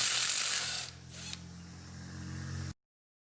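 Ratchet clicking while interior bolts come out of a Cummins 8.3L engine being assembled for a Hyster forklift, a dense burst of ratcheting followed by a quieter stretch with a single click.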